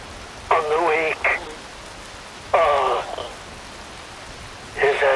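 Steady rainfall in the video game Metal Gear Rising: Revengeance, a constant even hiss that runs throughout, with a voice speaking in short bursts over it.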